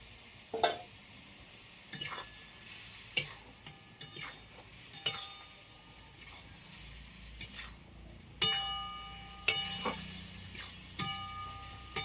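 Fish pieces go into a pan of cooked spice paste, with a soft sizzle under sharp intermittent clinks and scrapes of a utensil stirring, close and quiet, with no talking.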